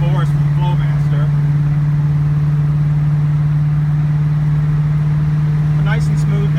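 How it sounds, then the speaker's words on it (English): A 1974 AMC AMX Javelin fitted with Flowmaster Super 44 mufflers cruises down the road, its exhaust a steady, loud, low drone that holds throughout with a faint voice over it. "car sounds good going down the road. It's a bit loud. It does have those Super 44s from Flowmaster"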